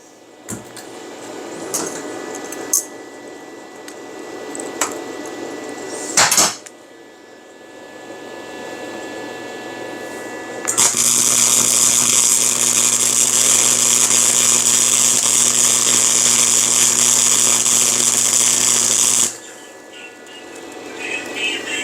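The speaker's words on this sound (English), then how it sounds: "The light is so bright from the welding." MIG welder at work in a chilly shop, a steady buzzing crackle that starts suddenly and holds for several seconds before cutting off, preceded by clicks and handling noises, loud and close.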